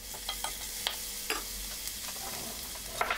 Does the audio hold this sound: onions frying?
yes